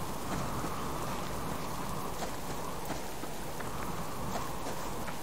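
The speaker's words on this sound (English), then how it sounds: "This rain is not nice." Steady, dense rain pours throughout in the survival video game Subsistence, a continuous hiss of drops hitting surfaces with no break, fairly loud and close, with faint low rumbles underneath.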